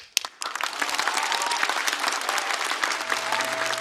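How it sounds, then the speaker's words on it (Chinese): An audience at a stand-up comedy show breaks into loud, sustained applause that starts abruptly and stays dense and even, with faint crowd noise beneath the clapping. "再次把掌声送给2位。"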